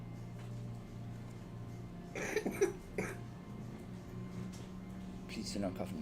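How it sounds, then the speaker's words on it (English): A few coughs burst out close by in a short cluster, then a softer one later, over a quiet room hum. "Please do not cough in my room"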